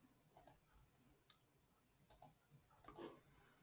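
A computer mouse clicks quietly at a desk, in three spaced pairs of short sharp clicks with near silence between them and no talk.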